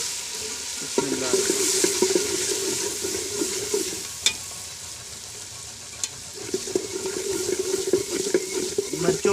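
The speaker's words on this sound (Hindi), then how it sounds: "मिर्चों को अच्छी तरह भून लेना।" Red chillies and turmeric frying in a pan, a steady hiss of hot oil under intermittent spatula scrapes and a couple of sharp metal taps, close and continuous without speech.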